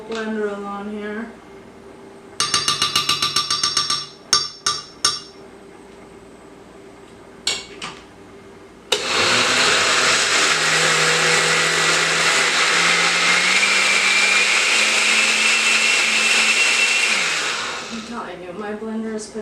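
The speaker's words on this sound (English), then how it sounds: "I'll put my old blender on here." An old kitchen blender mixing gluten-free protein bread batter starts after some clattering and clicks, then whirs loudly and steadily for about nine seconds before stopping, with brief talk before the motor starts.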